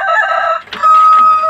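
A rooster crows loudly and close by, one drawn-out call with a brief break midway, among chickens kept for breeding.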